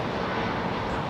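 Etihad Airbus A380 airliner at London Heathrow Airport gives off a faint, steady jet-engine roar, a brief broadband rumble heard from a distance.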